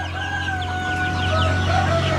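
Mysore native country chickens on a poultry farm cluck steadily in a close, continuous chorus, with a sustained low farm hum underneath and no talking.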